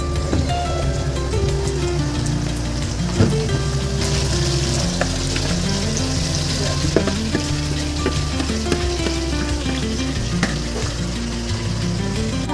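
Marinated chicken pieces for chicken kosha hit a hot pan with fried onion and tomato paste, setting off a loud, dense, continuous sizzle like heavy rain that holds steady throughout, with occasional stirring and no talking.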